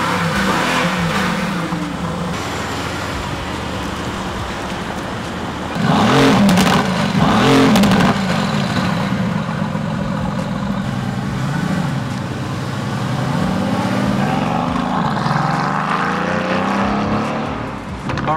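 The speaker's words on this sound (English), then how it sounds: "we're on a test drive with this GTS just to make sure everything's okay" A Mercedes-AMG GT S on a test drive, its engine droning loudly from inside the cabin and swelling in a couple of revving surges, with no talk.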